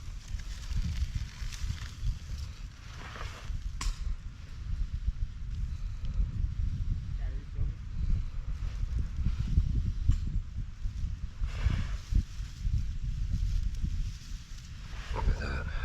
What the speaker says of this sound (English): See how windy it is?